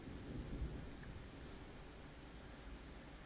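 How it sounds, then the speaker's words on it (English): Steady rain falling outside, a faint, even hiss of water with a low rumbling undertone, heard alone without voices. "And y'all hear the rain."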